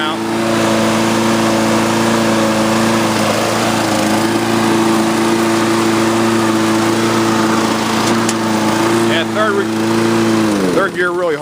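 A Scotts riding mower runs in third gear with a loud, close, steady engine drone that holds an even pitch. Near the end the pitch shifts and dips.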